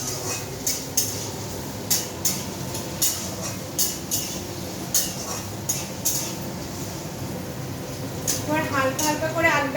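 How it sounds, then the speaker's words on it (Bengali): Potatoes are lightly fried and stirred in a wok for a vegetarian chana dal dish, with a metal spatula scraping and clinking against the pan in a steady rhythm of sharp knocks over a low frying hiss, while a person talks. "এবার আমি কড়াইটা আলুটাকে একটু ভাজা ভাজা করে নেবো।"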